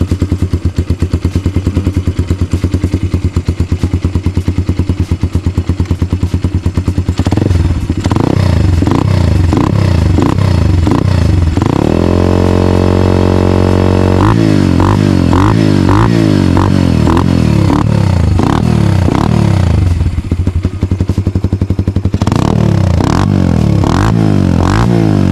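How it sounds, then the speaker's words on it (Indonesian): A Gazgas Hummer 150 Pro supermoto's single-cylinder engine with a free-flow racing exhaust idles loudly with a fast, even putter, then revs repeatedly in sharp bursts and settles back between blips. "Untuk suara mesinnya halus."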